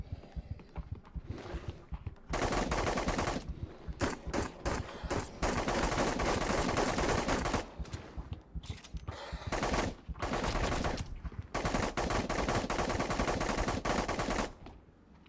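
Bursts of automatic gunfire in the shooter game The Cycle, loud and close, arriving in long dense volleys separated by brief gaps across the whole stretch, with no talking over them.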